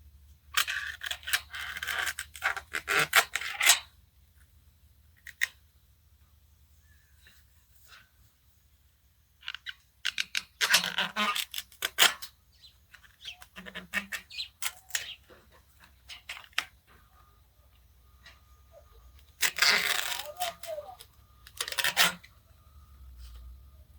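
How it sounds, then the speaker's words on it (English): Snake plant leaves being cut into small sections, with sharp snipping and crunching cuts in bursts, close and fairly loud, with quiet pauses between. "cut the rest of these leaves into small sections and place them root side down"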